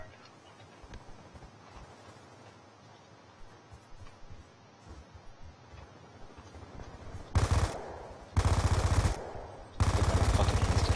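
MP7 submachine gun fire in Call of Duty, three loud sustained automatic bursts in the last few seconds following quieter background game sounds.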